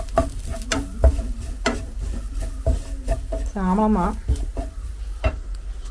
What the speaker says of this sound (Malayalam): കാപ്പിക്കുരു വറുത്തുകൊണ്ടിരിക്കുകയാണ്